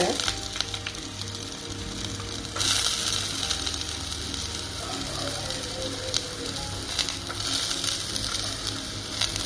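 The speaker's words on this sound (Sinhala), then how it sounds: "දැන් මම එකතු කරනවා තලාගත්ත සුදු ලුණු ටික. ඊට පස්සේ කපාගත්ත ලුණු ටික." Crushed garlic and chopped onion go into hot oil in a pan for a baby jackfruit curry and sizzle hard all the way through, the frying getting louder and fuller as more goes in.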